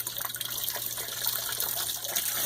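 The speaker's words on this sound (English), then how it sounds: "just real gently let that water run over the roots and kind of soften all that dirt up" Water runs steadily from a tap over plant roots to rinse off soil, a continuous close hiss and gush with no talk.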